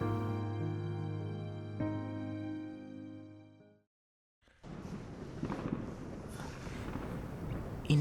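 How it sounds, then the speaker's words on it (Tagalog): Fireworks explode as a sound effect in a Filipino radio drama, a dense rumbling crackle of bursts that follows a sustained musical passage and a short silence. "Inay, ang ganda po ng mga paputok."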